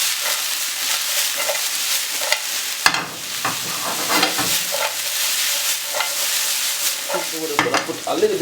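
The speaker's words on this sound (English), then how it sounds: "A little bit of pepper, not too much. And just saute this off for roughly about 3 minutes." Pepper is sautéed in a pan for escovitch salmon, a continuous close sizzle with scattered clinks and stirring knocks throughout and no talking.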